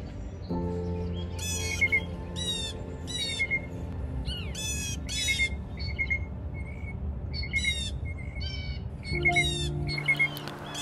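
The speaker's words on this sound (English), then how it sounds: "The birds begin to sing," Wild birds sing and squawk at sunrise on a frosty morning in the wilderness, with repeated bright rising calls over a steady low drone, loud and close, and no voices.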